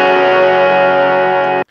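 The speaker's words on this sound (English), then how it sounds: "we have this really nice, shimmery, kind of bright electric guitar to bring us in." A shimmery, bright electric guitar with delay and echo rings out as one sustained, loud chord, then cuts off abruptly.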